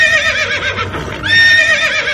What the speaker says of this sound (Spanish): El caballo que estaba atado a un árbol de guayabo relinchó furiosamente